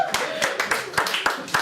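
A small group of people claps at a pitch presentation in a few loose, uneven bursts of close handclaps.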